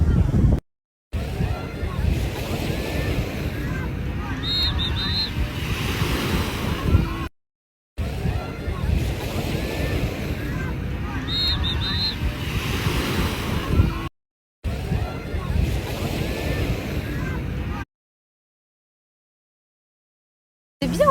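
Ocean waves break on a beach in Dubai, making a steady broadband roar and wash that is broken by short silent cuts.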